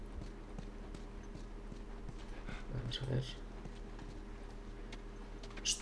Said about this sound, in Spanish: Es cierto que seguimos a caballo